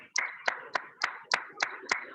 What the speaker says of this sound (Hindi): आपका तालियों के साथ स्वागत करें।